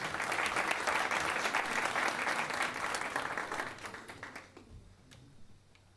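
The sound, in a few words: audience applause for Mr. Ali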